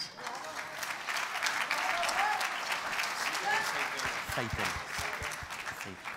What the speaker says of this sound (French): On peut applaudir Genesis.